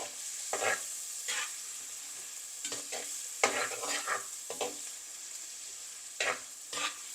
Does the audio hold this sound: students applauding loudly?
no